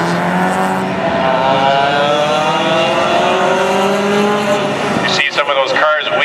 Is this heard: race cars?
yes